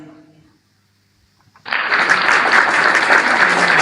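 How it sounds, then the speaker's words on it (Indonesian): After a moment of quiet, an audience suddenly bursts into loud, dense applause that stays steady until the end, with no talking over it. "Tepuk tangan lagi."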